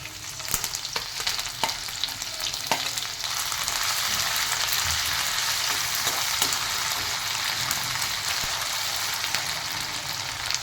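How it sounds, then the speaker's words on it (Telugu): Chopped onion and green chillies hit hot oil in a pan, giving a loud, continuous sizzle and crackle with occasional pops and stirring sounds, steady throughout with no talk. "కాస్త చిటిపట్లాడాక ఆనియన్, కట్ చేసి పెట్టుకున్న ఆనియన్ అండ్ పచ్చిమిర్చి"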